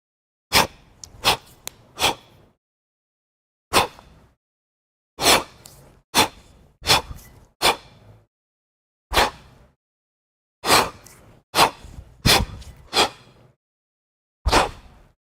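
Rhythmic, forceful breaths during a kettlebell long cycle breathing demonstration, sharp puffs in clusters with pauses between repetitions, close and clear with no talking.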